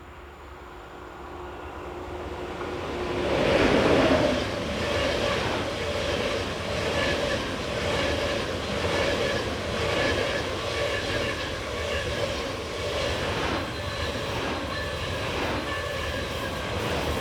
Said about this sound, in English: Rounding the curve in the opposite direction are 402013 and 402015 on a Düsseldorf to Munich service